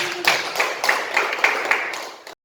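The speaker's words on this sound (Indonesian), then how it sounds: "tepuk tangan buat kita semua" A classroom group of students claps hands together in a steady rhythmic pattern of about six synchronized beats, fairly close and loud, ending abruptly.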